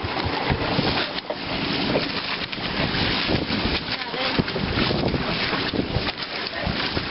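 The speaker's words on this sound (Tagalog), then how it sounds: "Malakas yung alon eh." Strong waves slap and rush against a small boat on an underground river trip, a continuous loud wash of water and wind noise with voices talking over it.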